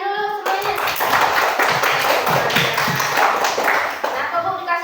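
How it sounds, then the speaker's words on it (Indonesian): Primary schoolchildren in an Indonesian classroom clap their hands together after a lesson, a busy patter of small hands under children's voices and a teacher's sung or spoken tones at the edges. "tepuk tangan dulu semuanya"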